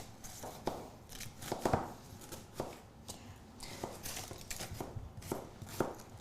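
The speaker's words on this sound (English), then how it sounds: "So 2 styles of cutting onions." A knife slicing a peeled, root-trimmed onion on a cutting board, giving a series of irregular crisp chopping taps close by, with no talking.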